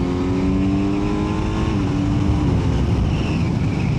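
A 2025 Kawasaki Z900 engine revs as the throttle opens, a loud steady rising drone with climbing tones, close and continuous without talk.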